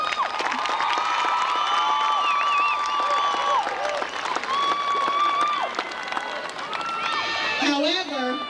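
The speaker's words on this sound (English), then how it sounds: "Let's give these young people another round of applause" A high school graduation crowd in 2006 applauds and cheers, sustained clapping mixed with loud whoops, whistles and shouting voices rising over the din throughout.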